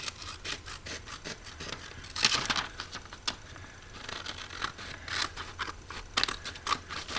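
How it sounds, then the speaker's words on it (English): Repeated crisp snips of scissors cutting paper, close and irregular, with soft rustling between cuts and no voices. "I'm kind of doing it by feeling the scissors along the edge."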